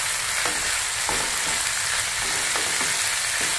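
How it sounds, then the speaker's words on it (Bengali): Ginger and garlic paste fries in a pan with a dense, steady sizzle, punctuated by a few spaced stirring scrapes, close and with no talking. "আদা বাটা, রসুন বাটা, এটা সুন্দর করে ভেজে নিতে হবে।"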